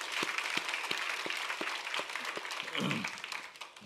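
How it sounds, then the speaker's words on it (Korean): A church congregation applauds in a steady wash of many hands, with a few louder claps popping out at an even pace, heard from some distance in a large room. "박수로."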